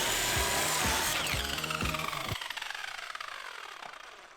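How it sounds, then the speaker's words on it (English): An angle grinder bites into a rusty old bicycle frame, a loud, harsh high-pitched whine with rhythmic chattering bursts that cut out partway and give way to a fading rattling ring-down. "We start grinding."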